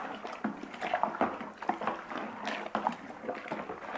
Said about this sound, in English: give it a really good stir to make sure that everything